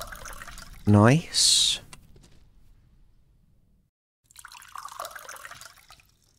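Water pours briefly and brightly into a container in the Mon Bazou video game, a short splashing fill of under a second, followed by a quieter stretch and some later clatter, with a voice speaking just before.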